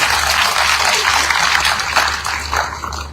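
Loud, dense audience applause fills a formal leadership event in Sierra Leone attended by the President, a steady wash of many hands clapping throughout with a low hum underneath.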